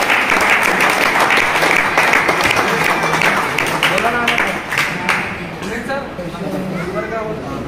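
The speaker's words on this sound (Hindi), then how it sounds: "जोरदार तालियों से स्वागत करते हैं" Crowd applause welcoming a district champion at a pigeon-flying tournament prize distribution, dense steady clapping that fades somewhat toward the end while someone speaks over it on a loudspeaker.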